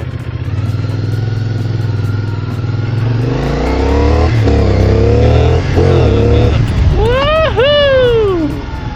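A new, not yet run-in CF Moto 450 SR motorcycle idles, then its engine is revved in several short, sharp bursts that rise and fall close by. A voice talks over the revving.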